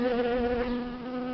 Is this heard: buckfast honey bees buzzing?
yes